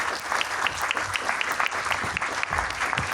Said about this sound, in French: Mais on peut applaudir quand même.